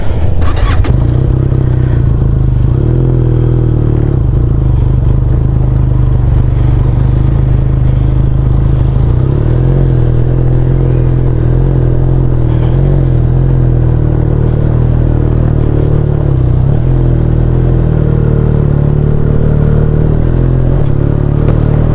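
Off-road motorcycle labouring uphill on a rough trail near Bolumalai Fort, held in first gear with a steady low engine drone and occasional clattering, continuous and close throughout.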